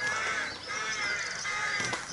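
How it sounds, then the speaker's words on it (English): Several rooks caw in harsh overlapping calls against a hiss of outdoor ambience, moderately distant and fairly quiet. "Are they rooks we can hear?"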